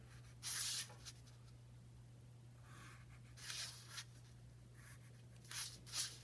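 Pencil drawing lines on paper during a perspective-drawing lesson, heard as a few separate close scratchy strokes with quiet gaps, each lasting under a second, over a low steady hum.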